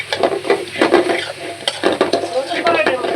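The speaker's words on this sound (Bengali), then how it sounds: "বরিশালের চিংড়ি মাছ দিয়ে শাক ভাজি করতেছি" Greens and Barisal prawns fry in a pan, a loud close sizzle broken by busy stirring and scraping of a utensil against the metal in quick irregular strokes.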